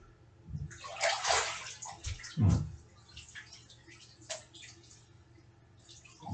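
Water sloshing and splashing during a ritual immersion bath, with irregular swirling bursts close by, one heavier surge near the middle, then quieter lapping and drips.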